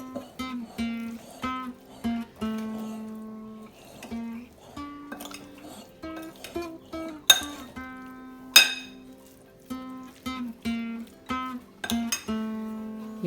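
A spoon clinks and scrapes steadily against a bowl while chickpea chaat is tossed with salt, red chili powder, chaat masala and cumin, a rhythmic run of bright metallic taps with a few sharper knocks, close and alone.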